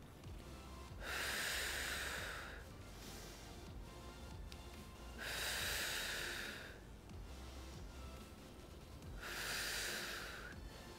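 Seated exercise breathing: three slow, even breath cycles, each a soft airy exhale swelling and fading, spaced about four seconds apart, close and quiet with no talk.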